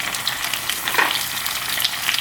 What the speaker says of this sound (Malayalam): 2 എണ്ണം വെച്ചിട്ട് വറുത്തെടുക്കും